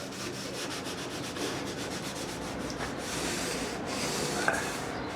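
Sandpaper worked by hand scrubs rust off a saw blade, a continuous close, hissing rasp of steady back-and-forth strokes with no pauses or talking.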